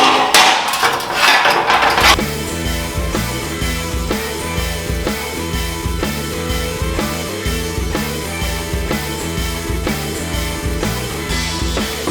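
Rapid, steady metallic hammer taps ring out close by on a car's driver-side body metal, a brief burst of noisy clatter at the start, then an even, repeating rhythm throughout.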